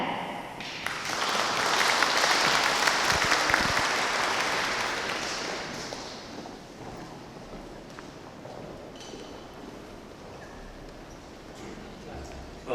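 An audience at a forum applauds to welcome the convener, a broad swell of clapping that builds over the first seconds, then thins and fades into scattered claps and room noise, with a voice speaking faintly underneath.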